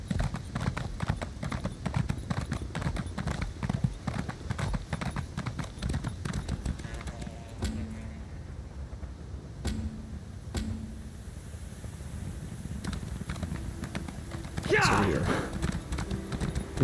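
Hooves clip-clop rapidly as a horse gallops in the Elder Scrolls Online video game, a steady quick rhythm underneath someone talking, with a few brief tonal game sounds toward the end.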